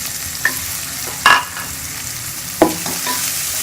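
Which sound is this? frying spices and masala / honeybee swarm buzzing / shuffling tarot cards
frying spices and masala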